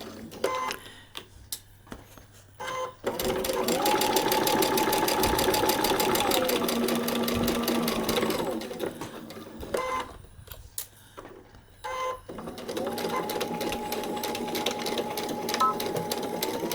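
A sewing machine runs close and loud in bursts, stitching forward and back to lock a paper-pieced quilt block's seam, with a steady mechanical rattle and pauses between runs.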